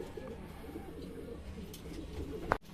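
Pigeons in a loft, with a hen and cock near an open widowhood nest box, cooing softly and continuously against low background noise, ending in a brief clatter.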